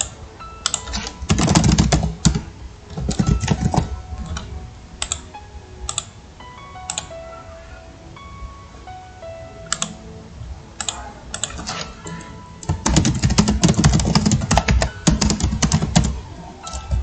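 Someone types data on a computer keyboard in uneven bursts of rapid clicking keystrokes, with quieter pauses between flurries.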